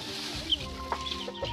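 Chickens cluck in a poultry pen, soft clucks and short calls scattered over a low steady farmyard hum, with no voices.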